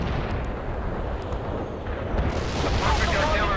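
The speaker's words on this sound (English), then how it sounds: "A perfect artillery hit." Artillery strike explosions in the video game World in Conflict, a dense rumbling barrage of booms that swells louder toward the end, with a voice talking over it.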